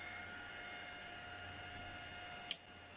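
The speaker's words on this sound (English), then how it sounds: "Turn my printer off because it's just finished" A printer hums faintly and steadily, then a short sharp click cuts in near the end and the running noise drops away as it is switched off.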